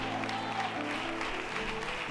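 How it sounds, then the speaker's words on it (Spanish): Congregation applause during a Spanish-language church service, a steady wash of clapping at moderate level with faint background voices. "Un fuerte aplauso a nuestro Dios Todopoderoso."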